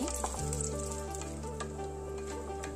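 Raisins and nuts briefly frying in a pan for Nepali rice pudding (kheer), a steady close sizzle with faint crackles and a low background hum throughout, no voices.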